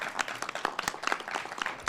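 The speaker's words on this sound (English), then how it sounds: "big round of applause to all" A room of staff at a city budget retreat claps briefly in a scattered round of applause, with separate sharp hand claps rising and falling over two seconds, moderately close.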